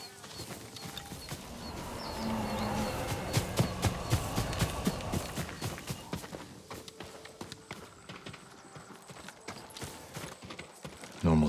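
Horse hooves clip-clop on the ground at the stables in the video game Ghost of Tsushima, with a steady walking rhythm at moderate distance over faint ambient noise and the occasional bird.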